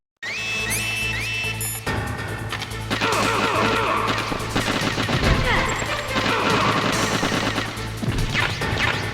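Bursts of gunfire and machine-gun fire crackle through a Metal Gear Solid game scene, dense and continuous over a low humming backdrop with crashes mixed in.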